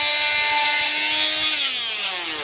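A power saw cuts through a large piece during electrical box installation, making a loud, continuous high-pitched whine and grinding that slowly drops in pitch as the blade bogs down.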